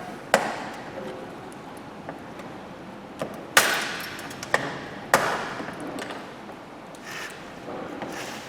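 Brittle plastic retainer clips snap one after another while being pried out under the bonnet of a 2007-2011 Honda CR-V, a handful of sharp, close cracks spaced irregularly over quiet background.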